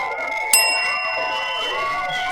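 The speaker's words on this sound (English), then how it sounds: "Not one ding. Two dings." A bright bell dings sharply once, then its clear ringing tone lingers and slowly fades over a quiet background.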